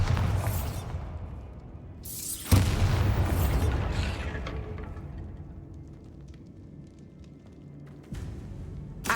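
Bombarda spell explosions in the Hogwarts Legacy video game: two loud booming blasts a couple of seconds apart, each with a long rumbling decay, followed by a third sharp burst near the end.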